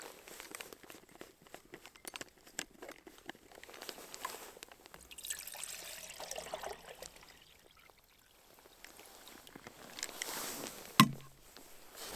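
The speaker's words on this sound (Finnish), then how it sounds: "Täältä litra vettä." A litre of water pours into the pot of a Primus Express Spider II multifuel camping stove, trickling and splashing unevenly with some handling knocks and a sharp clank near the end, with no talk.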